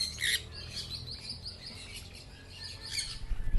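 Faint chirps and tweets from many small birds over a steady low rumble of background noise, with a few sharper calls now and then.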